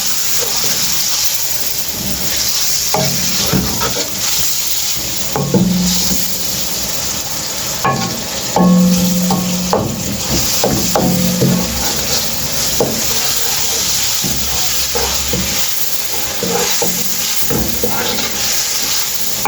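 Malai koftas dropped into a little hot oil sizzle and fry with a steady broadband hiss, punctuated by clicks and brief tonal scrapes of a utensil against the pan.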